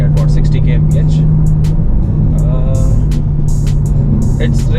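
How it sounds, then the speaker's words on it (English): Ferrari running in automatic mode, cruising in 7th gear at about 60 km/h, gives a steady low engine and road drone that holds loud through the whole stretch, with cabin noise and brief high clicks on top. "the car is in auto. It's doing the shifting for me. We are in 7th gear, about cruising at 60 kmph"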